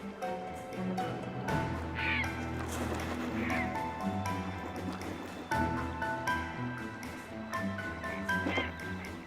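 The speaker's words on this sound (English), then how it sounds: "A fight has flared up over the last fish among the herons." Herons squabble over the last fish in a harsh winter, harsh croaking calls and flurries of scuffling breaking out again and again, close and fairly loud against a busy background.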